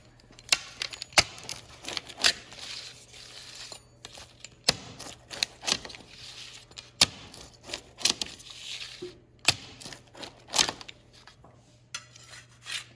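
Pizza topped with a sprinkle of oregano being cut, giving a run of sharp, separate clicks and knocks of a cutter against a board or pan, close by and moderately loud with no talking.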